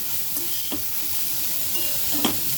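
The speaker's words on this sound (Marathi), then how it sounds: "तर आता हे आपण असंच परतून घेणार आहे" Bitter gourd (karela) pieces being stir-fried in oil in a pan, giving a steady close sizzle with a couple of brief stirring scrapes, with no talking.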